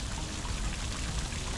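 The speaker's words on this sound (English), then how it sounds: "this is the fountain of the river gods" Water splashing steadily in the Fountain of the River Gods in a park, a continuous close trickling and pouring with no break for the whole moment.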